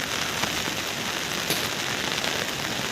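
Steady rain falls on a mountain trek toward Madmaheshwar, a dense continuous hiss of drops with occasional louder close patters, heard alone.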